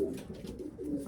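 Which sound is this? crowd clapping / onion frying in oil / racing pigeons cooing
racing pigeons cooing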